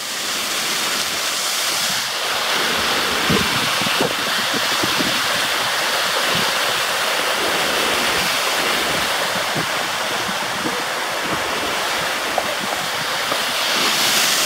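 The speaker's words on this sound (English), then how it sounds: "Kings Canyon Falls" Kings Canyon Falls in Nevada pours in a steady, full roar of falling water, close and loud, with broad rushing noise filling the whole stretch and no voices.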